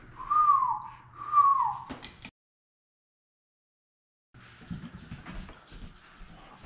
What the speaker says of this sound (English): if you whistle while you blow it, it works better.